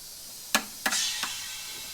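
Three short sharp bursts of lubricant spray hit a camshaft drive gear on a three-piece camshaft core, close and distinct, with a faint hiss trailing after them in a quiet workshop.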